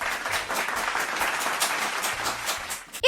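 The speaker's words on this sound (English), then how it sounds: "Let's give them a round of applause." A crowd applauding, dense, even clapping that carries on steadily and then stops abruptly, with no voices over it.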